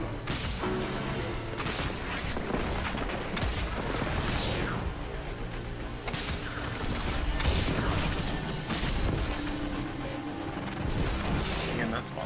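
Rocket launcher blasts from Destiny 2 during a Garden World Nightfall boss fight, loud repeated booms and firing bursts over dense combat noise and game music throughout.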